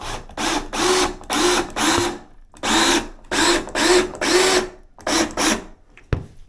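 A power drill drives a number 10 Torx-head screw into a stud behind a loose shower door frame, eased in with about ten short whirring bursts and brief pauses, loud and close, then a sharp click at the end.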